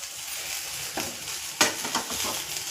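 Cluster bean pods roast in a pan on a gas stove, giving a soft frying hiss broken by a few sharp scraping stir strokes, with no talking.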